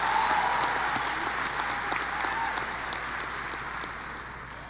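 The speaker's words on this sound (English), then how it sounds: "One more round of applause, please, for our honor speakers, Dreyson Fisher and Maggie Hobson." An audience at a high school commencement ceremony gives a round of applause for honor speakers, a broad, steady roar of many hands with a few sharper claps, gradually tapering toward the end.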